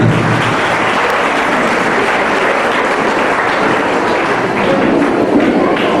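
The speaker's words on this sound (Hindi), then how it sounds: "तालियों से स्वागत कीजिए।" Audience at a Khudiram Bose martyr day event applauds to welcome a guest, with dense, loud, continuous clapping filling the whole stretch.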